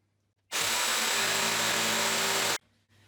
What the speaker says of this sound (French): Je vais tenir ma scie bien à plat et moi je me tiens de côté. Je la démarre un petit peu avant de rentrer dans le bois.